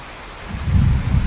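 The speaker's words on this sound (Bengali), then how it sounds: "আজকে সকাল থেকেই বৃষ্টি, কিন্তু এখন এত পরিমাণে বৃষ্টি হচ্ছে" Heavy rain pours down steadily outside in a loud, dense roar that swells midway through the short stretch, with no voices.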